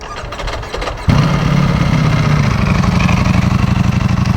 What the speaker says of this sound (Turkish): Şimdi orijinal egzozlu ve fabrikadan çıktığı gibi sesini bir test edelim.